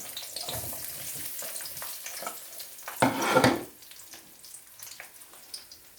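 Potato chips sizzle in hot oil with a steady crackling hiss that swells into a louder, denser burst midway, then settles back to an even fry.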